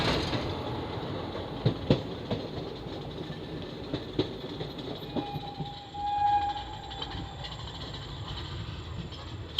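Koyna Express rolling over the Krishna River bridge at night, with a steady, moderately quiet rumble, irregular rail clicks and clanks, and a short squeal partway through.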